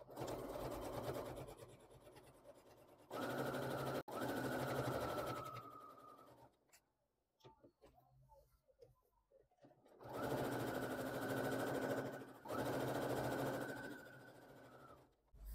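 A sewing machine topstitching English embroidery runs in steady whirring bursts, two long runs separated by a quiet pause filled with soft fabric handling, each run with brief stops between.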